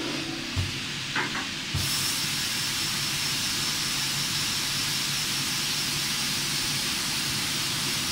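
Motors of a Murat TT 405 automatic double-head saw spin up with a loud, steady whine and broadband roar that holds constant after a short start.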